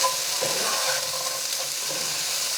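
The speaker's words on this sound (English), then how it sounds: "Here is a tin of chickpeas, just drained and rinsed. Quick mix." Drained, rinsed tinned chickpeas and peppers are stirred in a hot frying pan for a pulao, producing a continuous close sizzling hiss with soft scraping of the mix.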